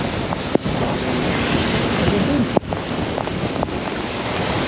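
Gusty storm wind sweeps over a bridge above floodwater, a steady broadband roar with a few sharp knocks and bumps; a voice says one brief word.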